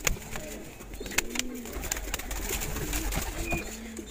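Domestic pigeons coo softly in a nesting loft, with repeated low, rounded coos rising and falling in a steady rhythm at close range over a faint background hum.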